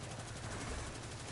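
Rapid-fire weapon in a video game shooting in a dense, continuous burst, its quick shots blurring into an unbroken roar that fills the short stretch with no pauses.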